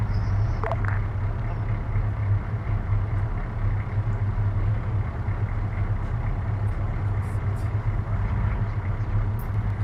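Military ammo truck engine idling in a war video game, a steady low rumble held evenly throughout without talk.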